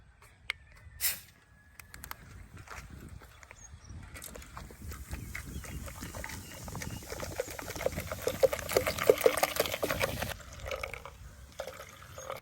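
Miranda soda is poured from its bottle into a separate container, making a soft fizzy trickle and splash that builds gradually and is preceded by a few small handling knocks, close and fairly quiet.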